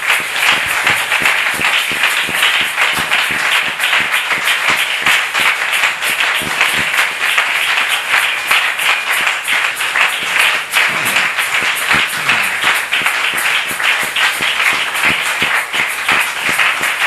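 A church congregation applauds, with sustained, dense clapping filling the whole stretch at steady loudness and no clear voices standing out.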